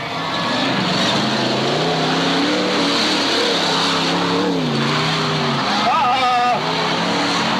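Demolition derby race cars rev at the start line of a Moses Lake race, engines rising and falling in loud overlapping whines under a race announcer's voice.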